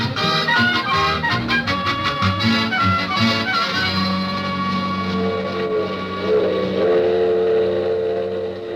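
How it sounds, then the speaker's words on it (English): A train sound effect from an old-time radio comedy marks the Super Chief departing: rhythmic chugging pulses with whistle-like tones that fade into a steady rumble, loud and without voices. "Attention, please. The Super Chief now departing."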